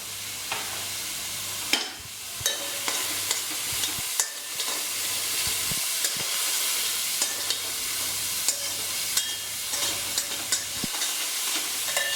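Whole spices, bay leaf, black cardamom, cinnamon stick, cloves and black peppercorns, sizzle steadily in hot oil in a pan for chicken curry, with repeated sharp scrapes and clinks of stirring over a constant frying hiss.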